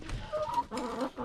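Backyard garden chickens in a chicken run cluck excitedly in short, rising, overlapping calls, close and moderately loud, with several birds chattering at once.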